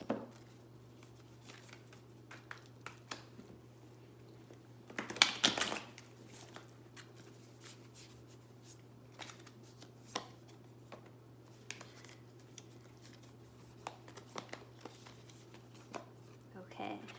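An Animal Spirit tarot card deck being shuffled, giving scattered light papery riffles and taps with one louder burst of rapid card flutter, over a steady low hum and occasional talking.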